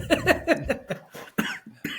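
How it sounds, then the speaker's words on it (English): A burst of several rapid, harsh coughs close to the microphone, followed by a few more scattered coughs and breaths. "I might have to mute myself for coughing"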